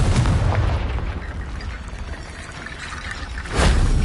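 Fiery Confringo spell blast from Hogwarts Legacy, a loud booming explosion with rumbling low end that fades, then a second sharp burst near the end.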